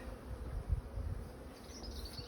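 Honey bees buzzing at an opened hive during an inspection as full supers are lifted off, a dense, soft, continuous hum close by, with no voices.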